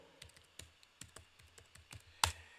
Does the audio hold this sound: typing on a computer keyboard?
yes